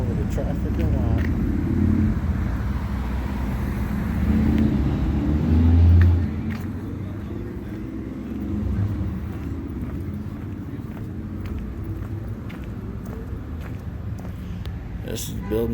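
Street traffic at a city intersection gives a steady, dense rumble of passing cars with a louder vehicle swelling past early on. It continues without a break as a broad background wash, with a person talking over it.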